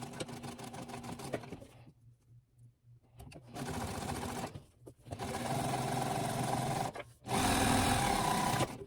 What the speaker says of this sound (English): we are going to go stitch them down just like we did on our square pillow cover